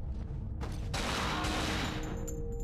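A single sharp gunshot from a pistol in the survival horror video game Cold Fear, followed by a short crackling echo and decaying noise tail, with no talk over it.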